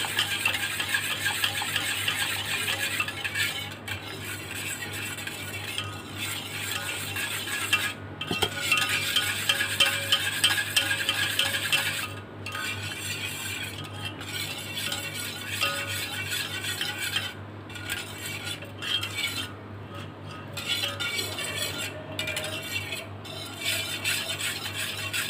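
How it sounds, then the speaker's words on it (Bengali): Boiled milk for yogurt is stirred in a metal pot, a continuous soft scraping and swishing with occasional light metallic clinks over a steady low hum, close and quiet with no talk. "এখন এগুলো আমি একটু নেড়ে তারপরে ঠান্ডা করে নেব।"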